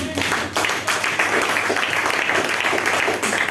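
Audience applause in a hall during a session on Black identity, a dense, steady wash of many hands clapping that holds for several seconds with slight swells, loud and continuous.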